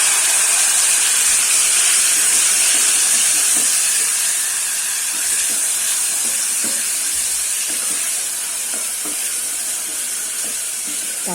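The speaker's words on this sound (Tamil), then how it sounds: "தக்காளி கொஞ்சம் வதங்கட்டும்." Tomatoes and ginger garlic paste sautéing in a pan for hotel-style veg kurma, a loud, constant hissing sizzle that eases off slightly over time, with faint stirring scrapes close by and no voices.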